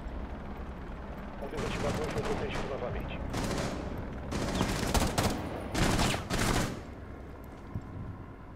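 Gunfire in the PC game Rainbow Six: bursts of automatic shots come in several loud clusters over a low background rumble, separated by quieter gaps.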